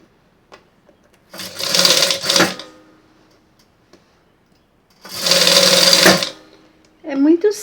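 A sewing machine stitching the lining of a tube dress runs in two loud, sustained bursts with quiet pauses between them, and a voice starts at the very end.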